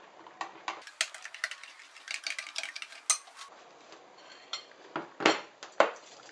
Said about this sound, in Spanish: Mezclamos bien.